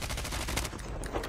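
Rapid automatic gunfire from Call of Duty Mobile, played on PC, crackles in a quick rattling burst of closely spaced shots, fairly quiet and continuous.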